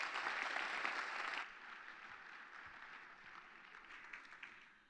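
An audience applauds at a business event in the New York Public Library, loud clapping at first that abruptly drops to a softer, thinner patter fading out by the end.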